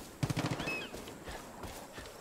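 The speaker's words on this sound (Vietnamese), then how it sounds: "test súng, test súng" Guns test-fired in the video game Far Cry 5 produce a quick rattle of several sharp shots, followed by quieter scattered clatter and faint movement sounds, moderately loud and with no talk.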